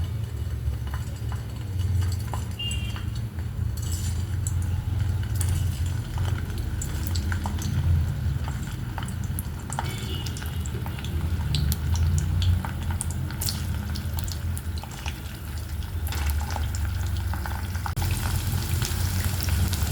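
Potatoes dropped into hot oil for dum aloo sizzle and crackle steadily and close up, a continuous dense frying hiss with bubbling that holds for the full span with no talking.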